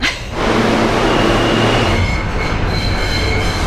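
New York City subway train roaring loudly through the station, dense rumble with squealing wheels and metallic whine, close and continuous.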